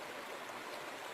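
A creek flows with a soft, steady wash of running water, faint and continuous throughout with no voices.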